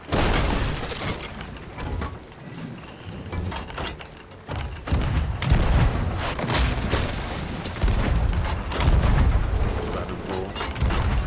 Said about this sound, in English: Cannonball.